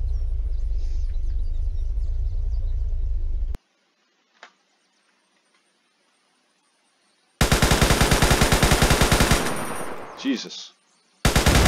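Rapid bursts of heavy automatic tank turret fire in a WW2 eastern front combat video game mod, loud and dense, cut by an abrupt stretch of near silence, with a brief exclamation from a player.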